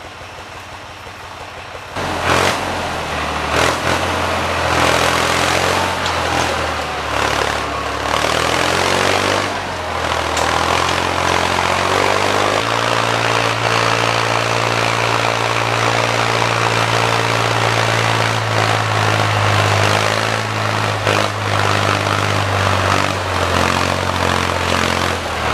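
A tractor disks a fall food plot, its engine rising after a quiet start into a loud, steady, close drone that holds with slight shifts in pitch throughout.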